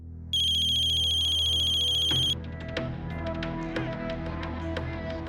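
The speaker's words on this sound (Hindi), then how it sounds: "अगम का फोन" A mobile phone's electronic ringtone trills steadily for about two seconds, then stops, followed by quieter clatter and soft background noise.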